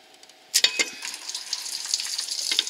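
Antifreeze spilling out of a Ford 7.3L Powerstroke diesel engine block during water pump removal, a sudden splashing that settles into a faint, steady trickling and dribbling.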